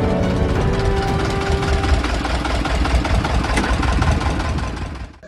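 The engine of a small motorized ferry boat runs steadily with a rough, knocking, chugging drone, loud and close, fading out at the very end.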